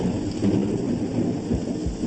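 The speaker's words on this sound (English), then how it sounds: "it appears we have a second part of this storm moving through" Heavy thunderstorm with rain, a continuous loud rumbling wash of rain and low thunder filling the whole stretch with no voices.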